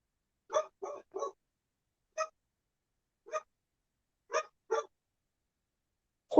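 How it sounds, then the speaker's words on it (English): A neighbor's dog barks outdoors in short, separate bursts, a quick group of three followed by single and paired barks spread over several seconds, fairly faint and distant with quiet gaps between them. "Whose damn dog is barking?"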